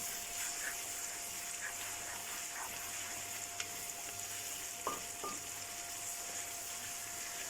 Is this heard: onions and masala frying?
yes